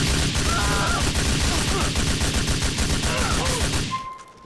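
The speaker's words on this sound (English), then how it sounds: "I've been shooting bullets into your head the whole time" Rapid bursts of automatic gunfire fill a shootout in the video game GTA IV, dense and loud before cutting off abruptly near the end, leaving a short electronic tone.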